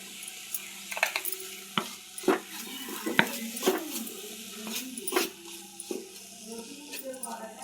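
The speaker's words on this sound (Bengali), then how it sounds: "আর একটু ভাজা হবে," Food frying in a pan with salt just added, stirred by a spatula that scrapes and taps in irregular bursts over a soft, steady sizzle at close range.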